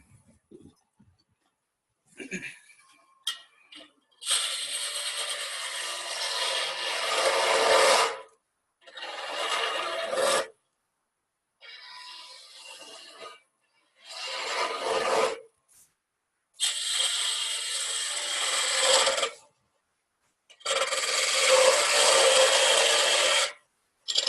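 A hand wood gouge scrapes and carves a piece of wood in a series of bursts, about eight rasping strokes of varying length separated by short pauses, close and fairly loud with no talking.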